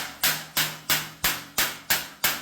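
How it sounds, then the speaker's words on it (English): A flat-faced dinging hammer strikes a sheet metal car body panel in seven sharp, evenly spaced blows, each ringing briefly and then decaying before the next, close and alone with no talk. "We're going to start this with a flat-faced dinging hammer, and we're going to start on the outside edge."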